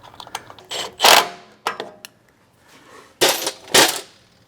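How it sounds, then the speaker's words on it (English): Small 6mm bolts with 10mm heads being fastened on a Toyota Tacoma short-bed rock slider, heard as scattered close metallic clicks, ratchet ticks and clinks in short bursts with pauses between. "So go ahead and put these little 6mm threaded 10mm head bolts in place."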